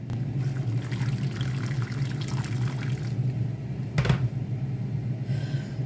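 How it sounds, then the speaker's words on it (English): Boiling water pours steadily into a pot of frozen spicy rice, a continuous close splashing trickle with a brief louder gush near the end. "So I'm going to pour some boiling water in here."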